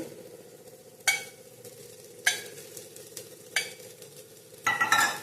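Oil sizzles on a rava dosa in a hot pan, a steady frying hiss punctuated by several sharp bursts of crackle, close and fairly loud with no voices.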